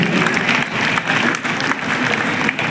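Audience applause at a Uttarakhand cultural event in Hindi, a dense, steady wash of clapping that fills the hall without pause and stays moderately loud throughout, with no clear voices on top.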